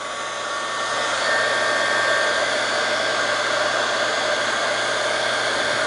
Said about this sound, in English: apply a little bit of heat from a heat gun